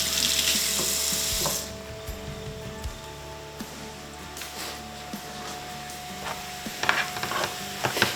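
Onions and peppers cooking in a pan, a loud hiss at first that drops to a quieter simmering sizzle, with scattered clinks and stirring scrapes, no talk.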